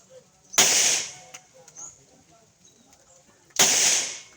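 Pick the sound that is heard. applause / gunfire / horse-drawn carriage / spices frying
gunfire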